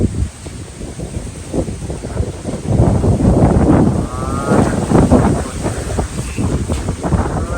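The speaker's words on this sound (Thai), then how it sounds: "ลมฟ้าลมฝนมาแล้ว" Gusty wind ahead of a rainstorm at an oil palm plantation buffets the microphone in a steady, rumbling roar, swelling louder partway through, with faint outdoor sounds in the background.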